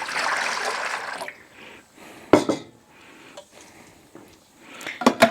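Homemade barbecue sauce pours and trickles into a metal strainer, with clinks and clatter from pots and utensils between soft liquid dribbles.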